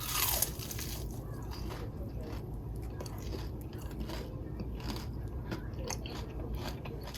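Someone bites into crispy Jamaican saltfish fritters (bacalaitos) at a taste test, and close, continuous crunching and chewing carries on throughout the clip.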